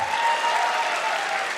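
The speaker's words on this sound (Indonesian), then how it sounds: "Coba di sini yang nggak suka sama musiknya Yonglek boleh tepuk tangan? Boleh lebih keras lagi?" Audience applause at a comedy roast, a dense sustained clapping from a live crowd that holds steady and loud across the whole short stretch, with no voices over it.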